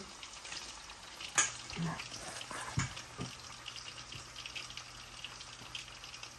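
Malaysian-style chili chicken frying in hot oil, a steady close sizzle with occasional stirring clinks and scrapes, fairly quiet and without talk.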